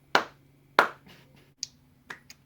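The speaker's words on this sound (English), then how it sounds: "all it takes is two simple claps of the hand" Two sharp hand claps, about two thirds of a second apart, trigger a Clapper sound-activated light switch. Fainter clicks and taps follow after them in a quiet indoor room.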